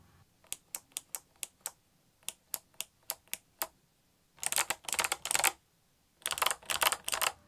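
Typing on a Cherry G80-3000 mechanical keyboard fitted with thick, tall-profile ABS keycaps: a run of evenly spaced single keystrokes, then two dense bursts of rapid typing, close and clear with no talk.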